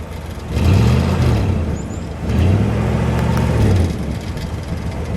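A 1962 Oldsmobile Starfire convertible with dual exhaust revs its engine loudly up close in two swelling blips, each rising and falling, with a steady idle rumble in between.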